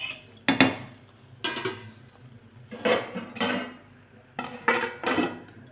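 A metal lid is handled and set onto a cooking pot of pulao, giving several sharp clanks and clinks in uneven bursts, close and fairly loud.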